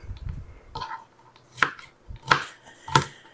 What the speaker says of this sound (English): all I'm doing is just dicing these up